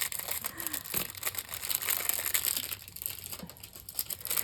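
A small plastic package crinkles and crumples close up during crafting, an uneven rustling that runs throughout with a few sharper crackles.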